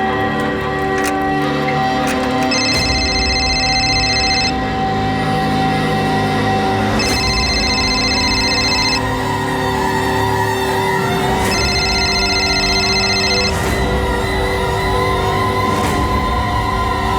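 A telephone rings in repeated electronic bursts, about three rings with pauses between, over a loud steady background of tones and noise.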